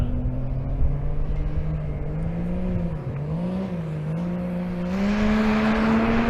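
A Cummins-powered drag race car sits spooled up on the strip at Bandimere, its engine droning loud and steady with a wavering pitch, then swelling louder and brighter in the final second as it launches.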